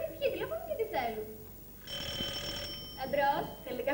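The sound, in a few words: telephone ringing in a school play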